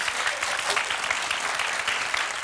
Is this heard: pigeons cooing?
no